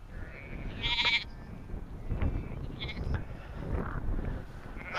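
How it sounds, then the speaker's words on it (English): Sheep and big lambs bleat outdoors as they run off, a few distinct calls at mid-distance over steady wind noise and rumble. "Oh, the sheep are running away."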